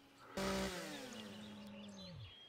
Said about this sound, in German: Ach, du hast schon eine Kettensäge, um Bäume zu fällen halt, ne?